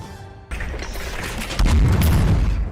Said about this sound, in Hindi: हवा में गूंजते धमाके इस बात का सबूत थे